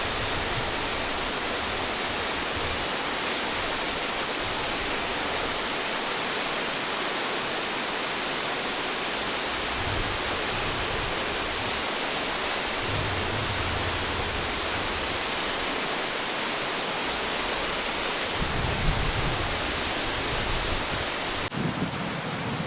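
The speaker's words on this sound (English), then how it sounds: "I made it to the waterfall" Waterfall in Salt Lake City, a steady, loud broadband roar of falling water that fills the whole stretch without letup, with no voices.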